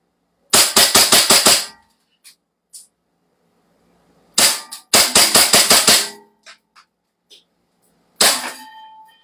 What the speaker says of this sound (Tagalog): Firing ngayon tayo. Firing.